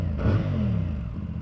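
A CFMoto 450CL-C motorcycle with a twin-tip exhaust idles with a steady low burble, with a quick blip of revs near the start rising in pitch and then falling back, heard close to the exhaust.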